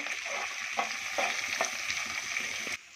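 Green chillies, curry leaves and onion fry in hot oil for beetroot palya, a dense steady sizzle heard close, with a few soft stirring scrapes before it suddenly drops away near the end.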